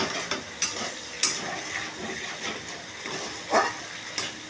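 Spice paste frying in oil for a small rohu fish kalia gives a close, continuous sizzle, with scattered sharp scrapes and taps of a spatula stirring the pan.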